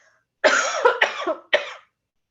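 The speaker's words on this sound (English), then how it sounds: "I'm going to cough, excuse me." Three hoarse coughs close up, the first two run together and the third follows after a short pause.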